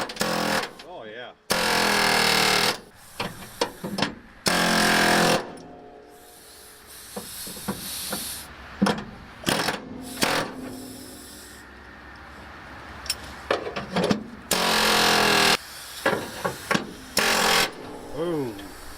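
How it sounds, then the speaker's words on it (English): Loud bursts of a pneumatic air hammer loosening brake parts on a 1976 Chevrolet C10 rattle in several separate runs of a few seconds each, with someone talking and clanking in between. "let me get the air hammer on this first."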